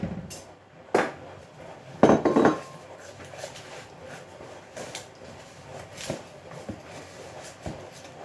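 A bowl is taken out among dishes that clatter and clink, with a few sharp knocks of crockery close by and quieter rattles between them.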